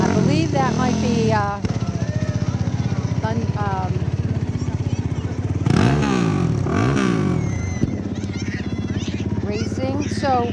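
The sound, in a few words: ATVs driving in a parade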